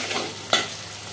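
Onions frying in a pan with ginger and garlic, a close, steady sizzling hiss with a brief stir or spatter midway.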